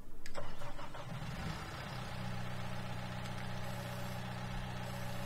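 A Deere skid steer's engine starts in a farming video game, with a loud cranking catch that settles into a steady mid-pitched idle, close and alone.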